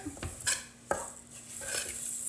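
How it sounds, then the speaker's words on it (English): Vegan cookie dough bound with flaxseed milk being mixed in a bowl, giving a few scattered clinks and scrapes of a utensil against the dish, close by and fairly quiet, with no talking. "All right, and then we just want to mix it."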